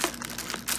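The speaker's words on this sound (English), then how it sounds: "trusty pair of scissors, and I'm going to cut the bag open" Scissors cutting open a plastic bag of Vallisneria americana aquarium plants, a short, close burst of crinkling and rustling plastic with no talking.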